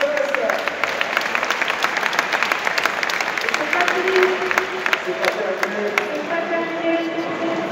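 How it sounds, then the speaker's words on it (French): A sports crowd celebrating a club's 35th anniversary at a season opener applauds a player, broad clapping and faint cheering filling the space under a loudspeaker announcer's voice. "on applaudit votre numéro 8 Angel"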